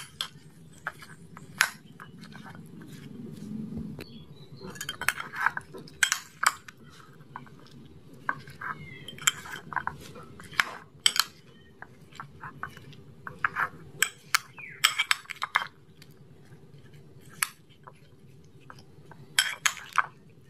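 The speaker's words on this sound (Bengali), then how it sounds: "এবার সবগুলো একসঙ্গে ভালো করে মেখে নেব।" Sliced guava is mixed with kasundi mustard sauce and chaat masala in a bowl, with sharp, irregular clinks and taps of a utensil against the bowl, close and bright over a soft rustle, some in quick bursts.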